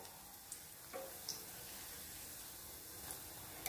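Dal pakoda vadas for Karnataka-style bonda soup deep-frying in hot oil, a steady soft sizzle with a few small pops and crackles, no voices.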